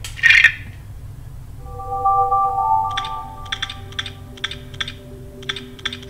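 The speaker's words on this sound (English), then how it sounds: "here is a LEGO Star Wars sound theme for the Wii menu" LEGO Star Wars sound effects theme playing on the Wii System Menu: a sharp opening burst, then sustained electronic tones followed by a run of short, crisp clicky blips, with no talking.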